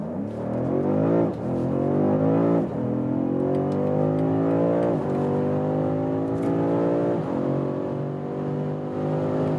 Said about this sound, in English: We're starting at about 30 kilometers an hour and let the hell out of this vehicle.